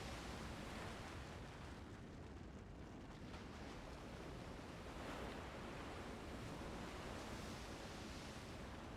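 A temple rises out of a lake in a video game, heard as a steady, loud wash of rushing water and surf-like noise that holds evenly throughout with no voices over it.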